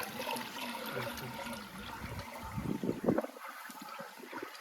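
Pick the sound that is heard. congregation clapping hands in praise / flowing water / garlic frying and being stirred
flowing water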